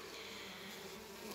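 Carpathian honeybees buzz in a steady, dense drone at close range during a spring hive inspection, with no voices over it.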